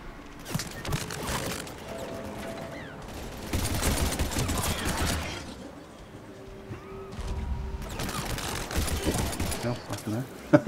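Gunfire and headshot impacts in the shooter game Mass Effect 3, dense bursts of shots in several clusters with gaps between, mixed with game effects and a voice talking over the action.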